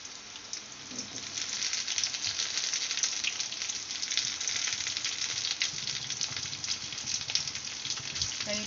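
Curry leaves, onion and tomato sautéing in a pan, a steady soft sizzle and crackle running throughout at moderate level with no other sounds on top.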